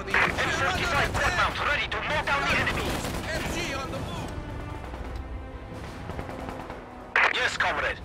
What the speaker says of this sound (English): Machine gun ready.